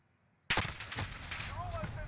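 Gunfire in the video game Modern Warfare: a loud, sharp burst begins abruptly and trails into a dense run of shots and game noise, with faint tonal effects near the end.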